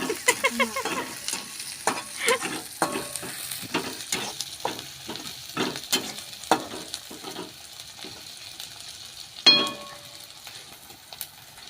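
Masala spices stirred and fried in a pan for masoor dal, a soft ongoing sizzle broken by an irregular string of spoon scrapes and taps against the pan, heard up close with no voices.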